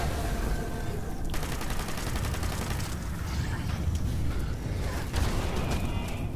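Rapid, dense gunfire from a powerful weapon in Fallout 76, a continuous loud barrage rattling through the whole stretch with a few sharper bursts, under faint background voices.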